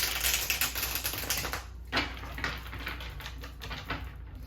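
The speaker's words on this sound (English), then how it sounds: "I'm going to do one more shuffle" A tarot deck is shuffled by hand, giving a run of quick papery riffles and soft card slaps that pause briefly partway through, close and moderately loud with no talking.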